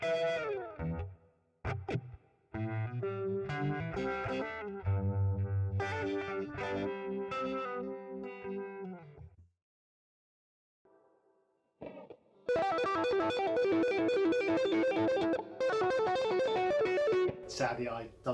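An electric guitar runs through a Zoom G1 Four multi-effects pedal, playing distorted, effected riffs and runs that stop for a short near-silent break. Then a busier, brighter passage follows, and a voice is also picked up.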